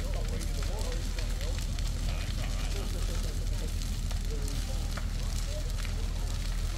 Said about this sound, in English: That's what you call a bonfire.